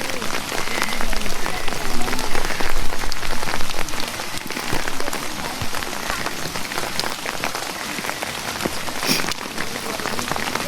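Steady rain pattering on a surface in the mountains, a dense, continuous hiss of drops close by, with no voices.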